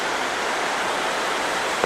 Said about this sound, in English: This is the tide coming in, pushing the river in the opposite direction.